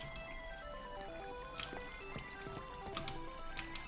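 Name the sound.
flowing water in Minecraft video game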